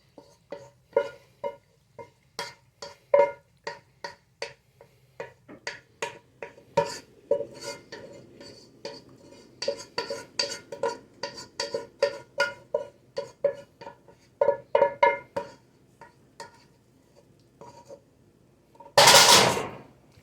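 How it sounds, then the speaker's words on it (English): Macaroni and cheese is scraped and dumped from a pot into a baking pan, with a steady run of sharp metal clanks and knocks from utensil against cookware, close and fairly loud, ending in a brief louder clattering burst. "So I have to take the pot and I have to dump it over into the pan, which is right here."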